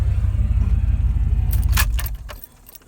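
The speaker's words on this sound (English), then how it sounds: "Let me turn off the truck." A 1998 Dodge Ram 1500 truck's engine rumbles, then shuts off as keys jangle loudly and close by in a brief burst, leaving quieter ambience.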